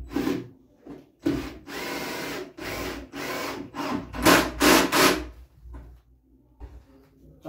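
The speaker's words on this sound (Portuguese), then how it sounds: "Vou parafusar ela aqui, ó. Que aí fica bem firme." Screws are driven into a reinforcement brace in the middle of a wooden computer table, heard as a series of loud, separate power-tool bursts with short pauses and wood creaking between them.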